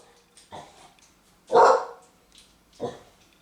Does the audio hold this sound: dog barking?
yes